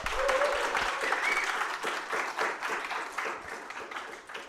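Sustained audience applause fills a theater at a cloud-native tech conference, a dense steady clatter of many hands with faint murmuring beneath it, tapering only slightly toward the end.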